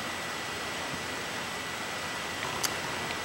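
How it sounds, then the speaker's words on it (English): Rain in The Legend of Zelda: The Wind Waker falls as a steady, soft hiss, even and continuous, faint, with no other sounds. "sometimes a lot of the times it rains. Like right now it's raining."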